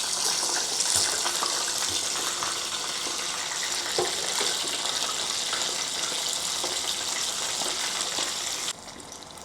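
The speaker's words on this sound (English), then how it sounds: "Now let's get back to the prawn to deep fry the prawns for the second time." Prawns deep frying in oil heated to 190 degrees Celsius for a brief second fry, a continuous loud hissing sizzle that holds steady and then drops off abruptly near the end.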